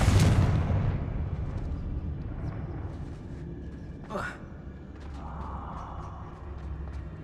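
A Confringo blasting spell explodes in the video game Hogwarts Legacy with a loud burst and booming impact at the start, followed by a sharp whooshing crackle midway and lingering rumble, while a voice speaks over the game sounds.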